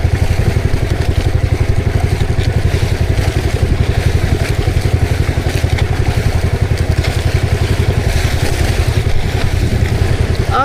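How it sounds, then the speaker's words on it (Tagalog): Boat engine on the Pacific adv. P616, running rough and misfiring while leaking oil: a loud, close, steady chugging pulse with clattering mechanical noise, continuous throughout with no talk. "Palya-palya ang makina natin ah."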